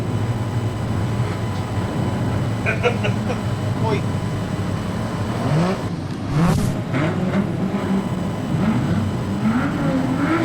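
Street stock cars roar and rev continuously as they race past on a speedway track, with pitch sweeping up and down as they pass, mixed with crowd and announcer noise.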